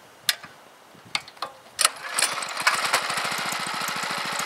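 A small engine driving an induction motor generator starts up under load, with a few sharp mechanical clicks followed by a steady, rapid pulsing chug that builds and keeps running close by.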